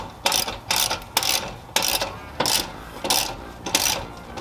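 A ratchet tightens a bolt on the downpipe side of an exhaust on a Mini, giving repeated sharp clicking bursts in an even rhythm, close and fairly loud, about seven strokes.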